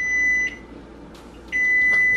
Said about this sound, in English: The world's most annoying microwave beeper.